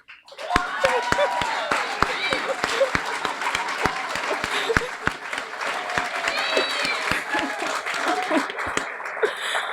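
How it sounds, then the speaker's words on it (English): An audience at a Guiding Eyes guide dog graduation in February 2019 claps loudly and continuously, with sharp individual hand claps standing out from the applause and voices murmuring underneath. "We have a rowdy crowd for Henna today."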